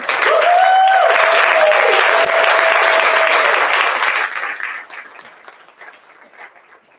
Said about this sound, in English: we're going to give them a nice loud round of applause